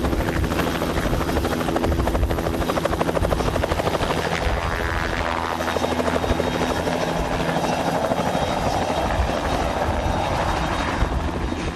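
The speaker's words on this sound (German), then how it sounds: "Viele Gäste nutzten die Gelegenheit, Mobilität in der Luft bei einem Hubschrauberrundflug rund um Schneeberg zu erleben." A helicopter on a sightseeing flight around Schneeberg, its loud rotor chop and turbine whine steady and close throughout, with no one talking.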